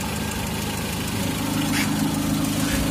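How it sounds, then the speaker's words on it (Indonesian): A Suzuki Baleno hybrid running on CNG idles steadily, its mid-pitched engine hum loud and even with a faint knocking pulse throughout and no voices. "Ini mesin nyala kondisi stasioner, manteng, tidak ada getaran."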